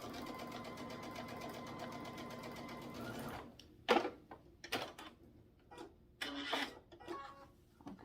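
A sewing machine stitches binding onto a quilt in a steady, fast whir for a few seconds, then stops, followed by faint clicks and handling sounds.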